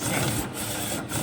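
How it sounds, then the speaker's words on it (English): A DTF 1200 desktop DTF printer with two printheads runs up close, its print carriage making a continuous scraping mechanical whir broken by two short pauses as it passes back and forth. "I love how easy it is to calibrate on this printer"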